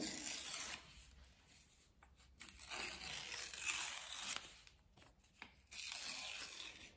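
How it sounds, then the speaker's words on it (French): Close, rasping rips of paper edges being torn off by hand in a few long strokes with brief pauses between them, in an otherwise quiet room. "on déchire les bouts."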